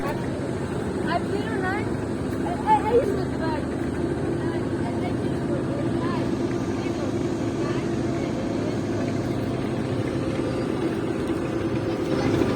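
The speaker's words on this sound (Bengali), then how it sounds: "ট্রলারে যাত্রী নিয়ে আসতেছে সেজন্য লঞ্চ একদম স্লো চালাচ্ছে" A trawler carrying passengers draws up to the slowed Sundarban 16 river launch on the Barishal–Dhaka route, its engine droning steadily and low throughout, with faint voices mixed in.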